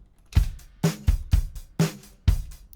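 A mixed drum-kit bus combining kick, snare, toms, overhead and room microphones plays a punchy groove: booming kicks and cracking snare hits in a steady rhythm, loud and close, with no voices.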